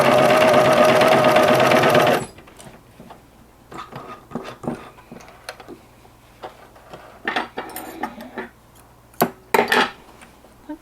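A Singer 9420 sewing machine stitches in one close, steady run for about two seconds, then stops, followed by light clicks and clinks of handling around the machine.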